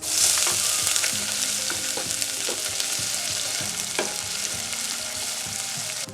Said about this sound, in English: I'm going to saute my seasonings. I'm going to go in with some oil, my onions,